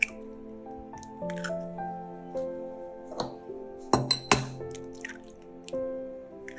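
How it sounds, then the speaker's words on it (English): Mashed egg tofu, shrimp paste and two eggs being stirred together in a bowl, giving wet squishing and soft clinks of a utensil against the bowl in irregular strokes, close and fairly quiet, with music playing underneath. "Mix everything evenly until the tofu becomes fine and evenly mashed up."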